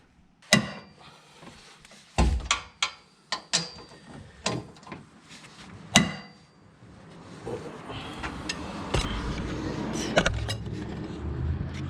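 A ratchet and wrench work on engine mount nuts and bolts of a Honda S2000, giving sharp metallic clicks and clanks at irregular intervals, followed by a duller, continuous rustle of handling.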